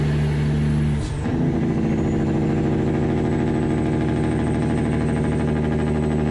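Diesel semi truck using its Jake brake, a loud, close, steady rapid-fire engine braking rumble that kicks in after a brief pause and holds to the end.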